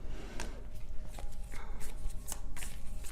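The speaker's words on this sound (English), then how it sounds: "If I could shuffle." Tarot cards being shuffled by hand up close: quick papery riffles and slaps come in irregular bursts, several sharp flicks spread over a few seconds, with no talking.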